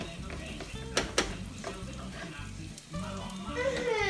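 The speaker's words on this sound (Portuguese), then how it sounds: "com o peito de peru, a gente vai refogar na manteiga" Turkey breast sautéing in plenty of butter in a pan, a steady close sizzle and crackle with a couple of sharp utensil clinks and stirring scrapes, no talking.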